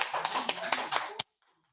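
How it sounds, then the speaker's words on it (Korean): An audience gives scattered, distinct handclaps to welcome a speaker at an indoor meeting, about half a dozen sharp claps over a second before cutting off abruptly into near silence. "큰 박수로 맞이해 주시기 바랍니다"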